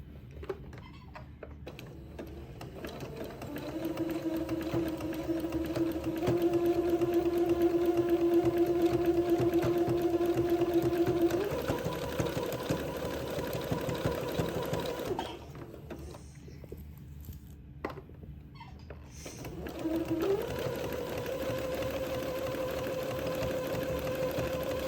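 Sewing machine zigzag-stitching an entredeux seam on a Christmas dress, running in steady whirring bursts with short pauses between runs, close and clear with no talking.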